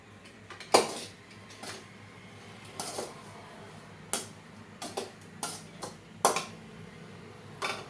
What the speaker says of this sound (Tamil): அந்த தேங்காயை உள்ள போட்டு நல்லா வறுக்கலாம்.